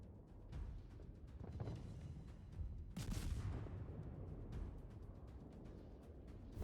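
Naval gunfire from the USS Nicholas destroyer in World of Warships: faint, muffled booming salvos under a low rumbling background, with one stronger blast in the middle.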